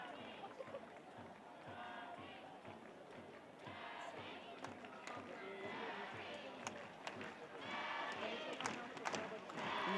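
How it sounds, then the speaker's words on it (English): Fans in the stadium at a 2022 NWSL women's soccer match between San Diego Wave and Gotham FC cheer and roar in a broad, swelling crowd wash, with a commentator talking over it. "you can hear the fans in the stadium cheering for Dahlkemper"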